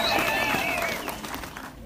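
A crowd claps at a Machakos election victory celebration, with dense close applause and cheering voices rising over it for a couple of seconds before easing off slightly.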